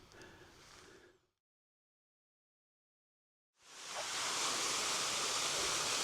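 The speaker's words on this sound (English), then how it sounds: "And this is the Kaskaskia Canyon waterfall." Kaskaskia Canyon waterfall at Starved Rock State Park, fed by a creek: a steady broadband rush of falling water, heard briefly, cut off to silence for a couple of seconds, then returning louder and close.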